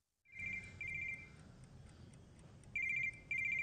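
A telephone rings in a scene from an Indian film, sounding as two bursts of rapid electronic trilling, a pause, then two more bursts over low background noise.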